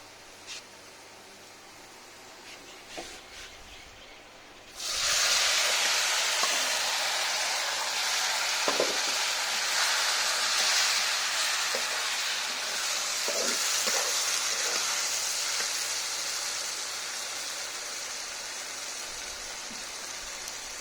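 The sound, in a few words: jackfruit dropped into hot oil, frying and sizzling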